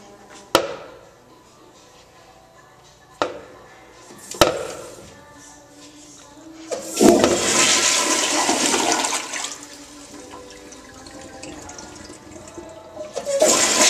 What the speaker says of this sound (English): What a short flush.